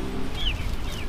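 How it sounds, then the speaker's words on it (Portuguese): Hens on a poultry farm with breeder flocks, giving a couple of short, high clucks over a low rumble of background noise, fairly close and moderately quiet. "As galinhas, as matrizes ali."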